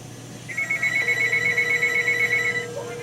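Several telephone ringers on a home phone line, hooked up while a line ringer-equivalence issue is being fixed, ring together in one long steady electronic trill lasting about two seconds, loud and close, with a faint hum underneath.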